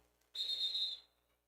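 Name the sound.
referee whistles at basketball game, official timeout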